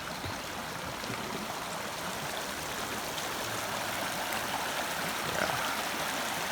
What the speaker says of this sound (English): so lots of cool creeks in the Sierras